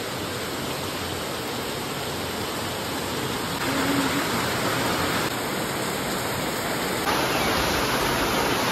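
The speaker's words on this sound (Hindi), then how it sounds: "अभी बहुत बारिश हो रही है," Heavy monsoon rain in Goa during a red alert, a steady broadband hiss that stays loud and even throughout, with slight shifts in intensity and no talking.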